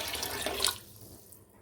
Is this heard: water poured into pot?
yes